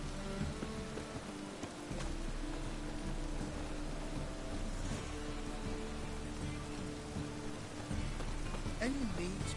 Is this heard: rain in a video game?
yes